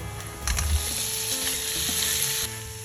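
Chopped pork belly and garlic fry hot in a pan for Filipino pork adobo, a steady, bright sizzle with crackling pops and a few stirring scrapes, close and alone with no talk.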